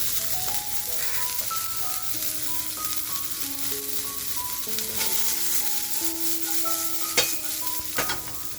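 Garlic and onion fry in a hot pan with a steady, dense sizzle throughout, occasional stirring scrapes and a couple of sharp clinks near the end, close up with no talking.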